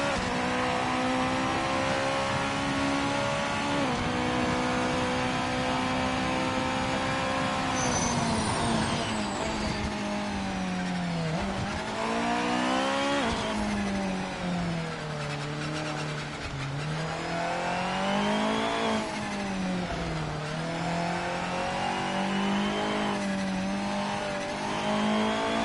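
A Japanese GT500 race car in a racing video game, its engine droning loud and steady throughout, pitch climbing under acceleration and dropping sharply at each of several gear shifts, with no talking over it.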